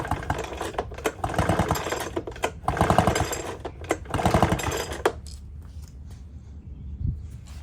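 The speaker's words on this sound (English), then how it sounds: "Go ahead and throw this recoil back onto it and give it a bunch of pulls." Recoil starter on an Echo backpack leaf blower yanked repeatedly, giving a burst of rough, rasping cranking strokes that stop abruptly, followed by a quieter pause with a faint thump.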